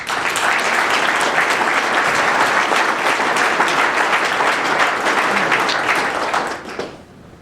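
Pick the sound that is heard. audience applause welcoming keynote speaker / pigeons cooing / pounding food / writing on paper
audience applause welcoming keynote speaker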